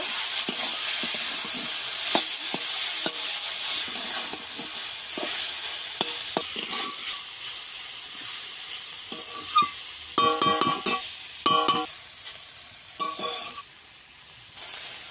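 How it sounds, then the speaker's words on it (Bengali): Malabar spinach greens fry in a pan without onion or garlic, a close steady sizzle and hiss with repeated scraping knocks of a stirring spoon, growing busier toward the end. "শাকটাকে ভালো করে ভেজে নেব"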